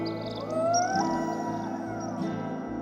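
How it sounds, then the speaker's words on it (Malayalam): A whale's underwater vocalization rises in long, gliding tonal sweeps and moans, set within a song with sustained musical tones beneath it. "അത് തിമിംഗലം വെള്ളത്തിനടിയിൽ ഉണ്ടാക്കുന്ന ശബ്ദമാണെന്ന്"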